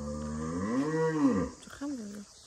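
A cow with one very large horn lows in a long, rising and falling moo that dominates the moment, followed by a shorter, quieter second call.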